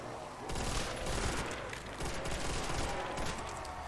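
Rapid automatic gunfire with heavy recoil in Call of Duty: World at War Zombies on the Verruckt map, a steady dense stream of shots lasting throughout, fairly quiet in the mix.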